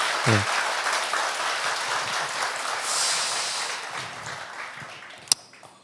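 A church gathering at a Saturday training session applauds, a steady burst of clapping from a group that fades toward the end, with a sharp tap near the close.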